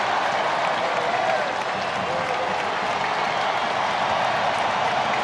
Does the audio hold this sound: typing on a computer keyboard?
no